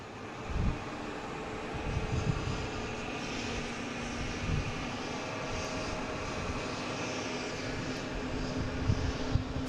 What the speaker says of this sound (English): next taking off, we have a Delta Flight 122 heading to Edinburgh